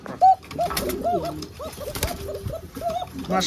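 Fancy Fashiraj pigeons cooing at close range, a series of soft, repeated throaty coos in a steady rhythm with a brief louder thump near the start.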